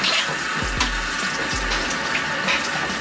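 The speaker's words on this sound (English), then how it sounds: "let's drain the heat circuit" Water rushing out while draining a boiler's heating circuit, a steady loud hissing flow with a few low gurgling knocks near the start, continuous throughout.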